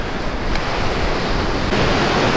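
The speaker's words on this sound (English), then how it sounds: "Big wave that happened right now." Steady roar of Hawaiian ocean surf breaking nearby, a continuous wash of rushing water with slight swells in loudness and no voices.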